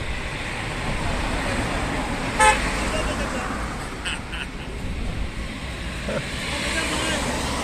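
Roadside traffic noise with cars rushing past and a short horn toot, heard at a moderate distance beneath a steady outdoor wash, with people's voices faintly mixed in.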